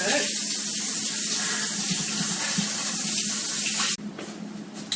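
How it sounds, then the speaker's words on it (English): Kale rinsed under a running sink tap, a loud steady rush of water that cuts off abruptly near the end, leaving a quieter background. "So I'm gonna rinse it in that sink real quick."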